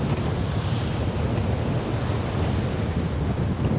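Wind and waves on open water while sailing in a northwesterly breeze around 15 knots with whitecaps off Alaska, a steady loud broadband rush of surf and wind buffeting the microphone, with no voices.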